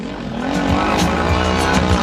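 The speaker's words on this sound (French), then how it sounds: "Le moteur qui tourne, il essaye de trouver un petit peu de grippe" A motorcycle engine revs hard and steadily during a dangerous hill climb, a loud, close, continuous drone with rising and falling pitch as the rider fights for grip.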